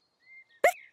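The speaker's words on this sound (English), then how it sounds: "You wouldn't like it if you got hiccups" A cartoon character gives a single sharp, squeaky hiccup after a faint thin whistle-like tone, close and clear against silence.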